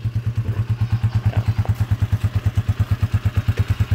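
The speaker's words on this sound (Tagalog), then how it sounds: "Parang all stock yung tunog bro, pero mamaw na yung makina niyan." Yamaha Aerox motorcycle engine converted to 200cc with a stock-sounding exhaust, idling close by with a steady, loud, even low thumping pulse throughout.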